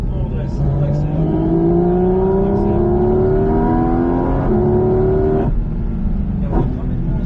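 A Porsche 718 GT4 RS accelerates on a race circuit at Bresse, its engine note climbing steadily in pitch through the gears with a brief break at a shift, loud and close from inside the car.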